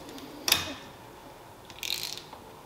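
A ratchet wrench snugging a suspension bolt on a Harley-Davidson during an Öhlins front and rear suspension install gives two short bursts of clicking, close and fairly quiet, with a lull between them.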